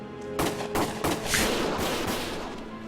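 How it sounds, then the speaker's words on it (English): Rapid gunfire rattles in the Valkyria Chronicles video game, several sharp shots in quick irregular succession followed by a lingering rumble of battle noise. "Gunfire!"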